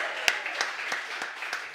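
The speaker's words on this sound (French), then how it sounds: "on peut l'applaudir" A French radio studio audience gives brief, light applause, a spaced scatter of soft claps at low level, heard at a distance.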